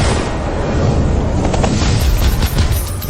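Heavy machine gun fire in a dramatic standoff, a dense, continuous roar of rapid shots that fills the whole stretch at high volume with no pauses and no voices.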